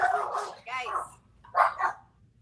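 A dog barks and yips a few times nearby during a tabletop Dungeons & Dragons game session, with voices talking over and between the barks.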